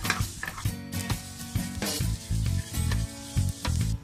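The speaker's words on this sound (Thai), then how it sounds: "เราจะเอางาดำนะคะมาคั่วในกระทะให้หอมนะคะ" Black sesame seeds roast in a pan, giving a crackly sizzle with a rhythmic series of loud, regular stirring scrapes and clatters, close up and with no speech.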